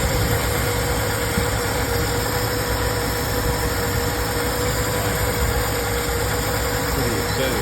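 A rusty 1965 Chevelle engine idles steadily and close up, a continuous rough rumble with no talking over it.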